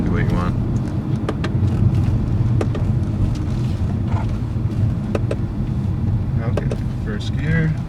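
A 2011 Mercedes C63 AMG in manual mode, heard from inside in 4th gear, gives a steady loud engine drone with road and wind noise, while people talk over it.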